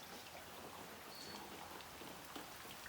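Rain falls outdoors onto a plate as a faint, steady patter with soft scattered drop hits and no voices.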